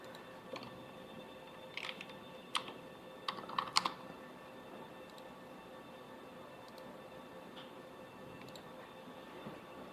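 Soft, quick clicks of a computer keyboard come in short clustered runs as a search is typed, faint and close against steady room hiss.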